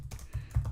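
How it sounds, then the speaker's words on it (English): A few quick keystrokes on a computer keyboard while a name is typed in to sign a contract, soft close clicks in an uneven burst lasting under a second. "So you just type in your name here, and you're finalizing the signature."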